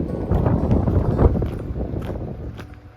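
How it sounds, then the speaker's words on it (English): Strong gusty seaside wind buffets the microphone in a steady low rumble, with no voices. "The more you get the seaside, the more windy you get."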